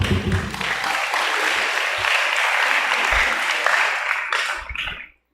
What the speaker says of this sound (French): Nous demandons une fois de plus d'applaudir Dr Brown.